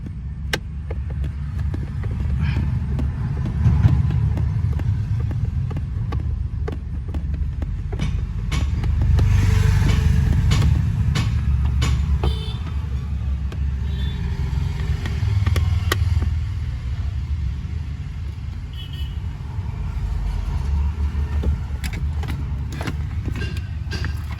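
AC blower motor of a Maruti Alto K10 running, a steady low droning whir with a broadband rush that swells and eases slightly, close and continuous with no voices.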